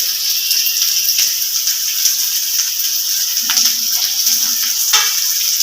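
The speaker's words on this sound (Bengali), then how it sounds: "পেঁয়াজটাকে ভালো করে নাড়াচাড়া করব করে হালকা ভাজা ভাজা করব" Chopped onions fry in hot oil with a loud, continuous sizzle, while a spoon stirring them scrapes and clinks against the pan every second or so.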